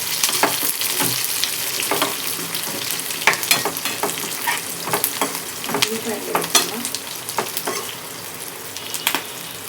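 Sliced onions and curry leaves sizzle and fry in hot oil for pesarla pappu, a steady crackling hiss with intermittent stirring scrapes and small pops throughout, close and fairly loud.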